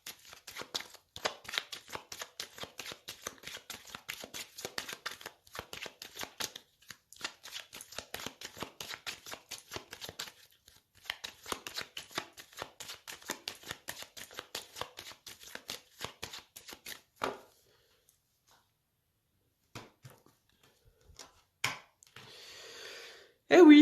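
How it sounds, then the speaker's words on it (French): Tarot cards are shuffled and cut in rapid soft riffling bursts, repeated crisp card flutters with brief pauses between, a voice speaking quietly underneath. "je vais faire une coupe pour les Verseaux"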